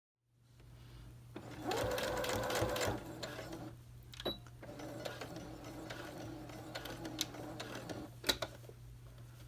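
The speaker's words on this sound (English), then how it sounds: "you want to keep sewing until you get to the other end of the collar and backstitch again" A sewing machine stitches along the seam of a wrap coat collar, a steady mechanical whir that starts up, runs in bursts and pauses with clicks and ratchety ticks as stitching continues, close and clear.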